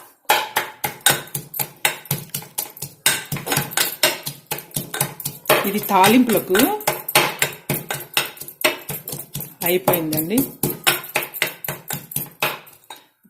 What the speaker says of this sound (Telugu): పొట్టు తీసి దీన్ని ఊరికే ఒక్క ముక్క దంచుతానండి.